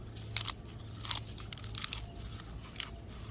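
Fresh lettuce leaves, just picked from an unsprayed garden plot, crunched and chewed up close in a series of crisp bites over a faint steady hum.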